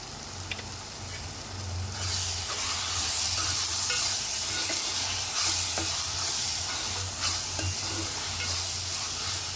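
Cabbage curry with a little chili powder sizzles steadily in a pan on the stove, a soft continuous hiss and crackle with occasional light stirring, no voices.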